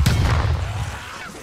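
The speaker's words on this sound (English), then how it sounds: "bomb thrown." A bomb explodes in Call of Duty Black Ops Cold War Zombies on Firebase Z, one loud close boom with a sharp onset and a rumbling tail that fades over about a second.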